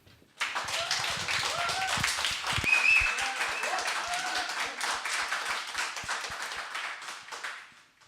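At a live show, the audience applauds a rapper with brisk, dense clapping that starts abruptly and holds steady for several seconds before tapering off, with a few voices calling out through it.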